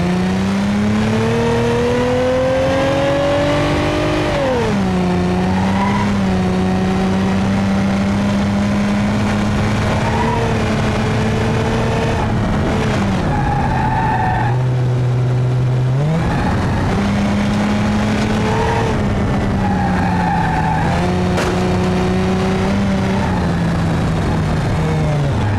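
A 2.8 liter V6 car engine in BeamNG.drive revs steadily alone, its pitch rising, dropping and climbing again through several throttle changes with no talk.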